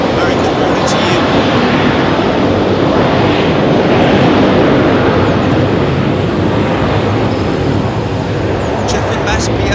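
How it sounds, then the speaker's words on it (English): Finnair Airbus A321 jet touching down at London Heathrow, a loud, steady broadband roar of engines and rushing air sustained throughout at close range, with a voice talking over it. "Finnair 321 touching down"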